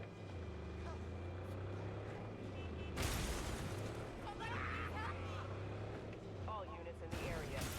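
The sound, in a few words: car driving through the city in video game Cyberpunk 2077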